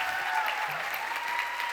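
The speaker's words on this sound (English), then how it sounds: "Can we give a round of applause to Dolores Huerta?" Audience applause for Dolores Huerta, steady sustained clapping from a crowd that holds evenly throughout without building or fading.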